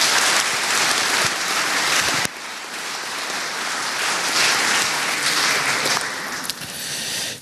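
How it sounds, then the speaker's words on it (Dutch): Warm audience applause at a Dutch history lecture, steady dense clapping throughout with a brief dip partway, filling the room without any talk. "Graag een warm applaus."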